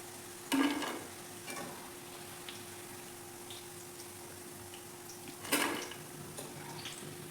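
Mushroom kebabs fry quietly in oil with a faint, steady hiss, broken by two sharp clatters of utensil against pan several seconds apart.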